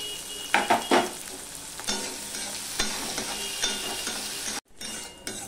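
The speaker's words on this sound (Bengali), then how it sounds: "এবার পেঁয়াজটা দিয়ে দিলাম, লঙ্কাটাও দিয়ে দিলাম।" Onion and chilli fry in a pan with a little oil and salt for a flattened-rice tiffin, sizzling steadily while a spoon stirs and scrapes, with a few louder clatters and a brief drop near the end.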